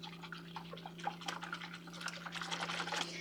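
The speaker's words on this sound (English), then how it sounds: "I've got me a little whisk right here. We're just going to stir that just like this." A small whisk stirs butterscotch pudding mix in a bowl, giving a quick run of light, close scraping and tapping strokes over a steady low hum.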